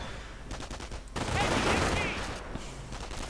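Video game battle noise of rapid rifle and MG42 machine-gun fire mixed with grenade blasts, a dense crackling fusillade that swells midway and sits under a faint voice.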